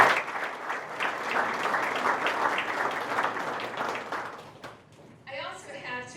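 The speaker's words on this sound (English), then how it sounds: "we need to give them a nice round of applause" Audience applause at a 2021 county-wide community breakfast, a steady dense wash of clapping lasting about five seconds before tapering off, followed by a speaking voice near the end.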